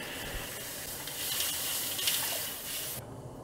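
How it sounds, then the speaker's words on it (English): Water pours into a wok of braising sauce made with soy sauce, rock sugar, fish sauce and cooking wine, a soft continuous gushing and splashing for about three seconds before it stops, with no talk. "Add water."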